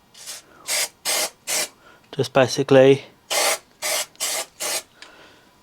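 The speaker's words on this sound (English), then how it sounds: "galvanising spray the hole underneath" Cold galvanising spray hisses from an aerosol can under a car's underside in repeated short bursts, about nine in total, with a brief spoken remark between them.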